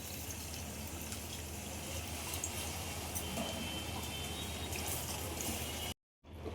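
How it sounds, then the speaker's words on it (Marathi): Water runs in a steady, soft stream into a pan of prawn biryani masala for several seconds, then cuts off abruptly into silence. "ह्यामध्ये थोडं पाणी घालूया"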